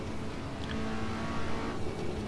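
An Alfa Romeo Giulia GTA racing car in the Assetto Corsa sim, its engine droning loud and steady at high revs with a slight rise in pitch as it runs along a circuit.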